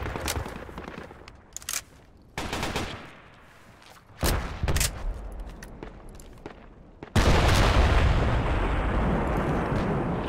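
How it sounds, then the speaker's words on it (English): Rockets fire in a rooftop spec ops squad firefight: several loud, sharp booming launches crack out in separate bursts, then a heavy sustained roar takes over near the end. "rockets going out, five seconds"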